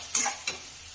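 Masala spices frying in a pan for a moong dish, with a broad sizzle and two short bursts of stirring scrapes close by, no talking.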